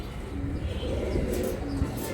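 Giribaz high-flyer pigeons, aluminium silver birds kept in a loft, give soft, low cooing calls in a few short phrases over a quiet background.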